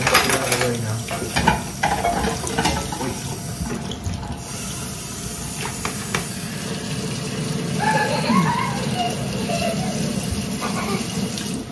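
Goulash cooking in a pan in a home kitchen: a steady sizzle and bubble with running water, stirring and occasional clinks of pots, under faint background voices.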